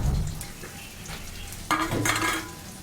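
Onion frying in oil in a pan, a soft sizzle with scraping stir sounds that swell briefly toward the end, no talking.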